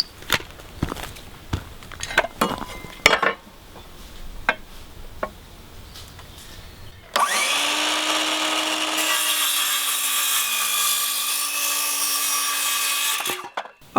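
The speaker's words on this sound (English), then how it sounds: "Okay, so all the boards have been cut." A power saw cuts through 2x4 wooden boards for a tiny house loft extension. A sustained loud whining cut of about six seconds follows some knocks and handling noises, then stops abruptly.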